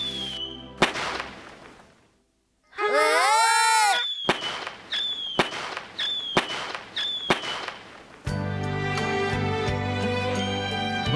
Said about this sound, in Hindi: अरे वाह, आज तो हमने पटाखों के साथ अपनी छुट्टी बिताई है